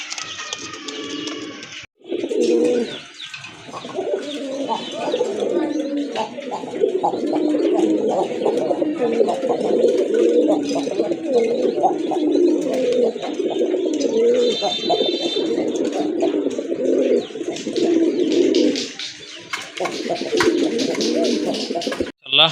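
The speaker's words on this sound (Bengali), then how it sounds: "আরেকটা পেয়ার, এটা হচ্ছে অরিজিনালি দেশি কবুতর।" Several domestic deshi pigeons at a pigeon sale coo close by in low, throaty, overlapping rolls that continue almost without pause, with a brief quiet gap near the start.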